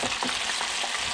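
Gafftopsail catfish pieces frying crisp in a pan of hot oil, giving a loud, dense, continuous sizzle close by with slight rhythmic crackle swells and no voices.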